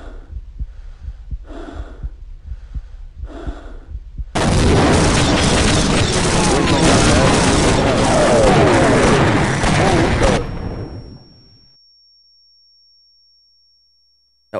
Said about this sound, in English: Flashbang, okay.